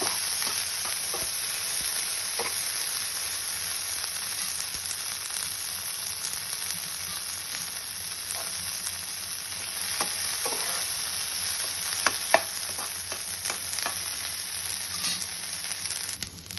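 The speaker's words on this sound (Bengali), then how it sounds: "এর মধ্যে দিয়ে দেব কর্ন। দিয়ে হালকা একটু নেড়ে এটা মিশিয়ে নেব।" Corn stirs and fries in butter in a pan for corn chaat, giving an even, hissing sizzle throughout, with occasional light clicks and spatula scrapes near the end.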